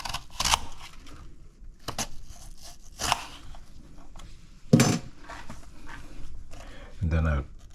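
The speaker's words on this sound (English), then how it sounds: "I'm going to just slice the flesh off and leave the core" A knife slices the flesh of peeled apples away from the core for apple tarts. Several crisp, separate cutting strokes are spaced irregularly, with quieter handling noise between them.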